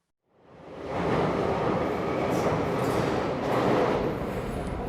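London Underground tube train at Swiss Cottage station, rising quickly from silence into a loud, sustained rumbling roar with rattling wheels, close by and steady for several seconds, no talk.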